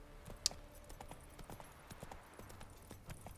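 Video game horse Roach trotting across country, a steady run of close, crisp hoof clip-clops in an uneven rhythm, with one sharp click standing out early.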